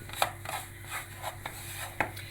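Semolina toasts in butter in a pan for Turkish halva, with a spoon scraping through it in rhythmic strokes, close and fairly loud over a faint background hum.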